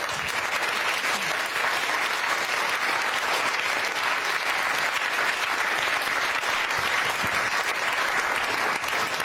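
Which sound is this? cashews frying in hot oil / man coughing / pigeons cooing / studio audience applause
studio audience applause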